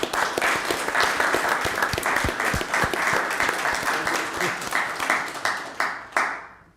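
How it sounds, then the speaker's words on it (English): Attendees at a West Fargo city commission meeting clap in a sustained round of applause that stays full, then tapers off near the end and stops. "Can we clap for him?"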